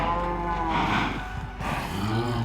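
Several cows in the video game Minecraft low and moo in a short burst, overlapping calls drawn out and fairly close, with no talking over them.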